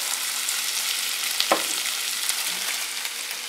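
Onions and garlic fry in a pan as the base of a spinach pie, a steady bright sizzle with one sharp clack of a utensil midway, close and without speech.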